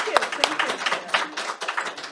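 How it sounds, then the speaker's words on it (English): Congregation applauding during a Sunday service at the Center for Creative Living, a dense patter of many hands clapping at moderate level with a few brief voices mixed in, steady throughout. "So a round of applause for Dottie."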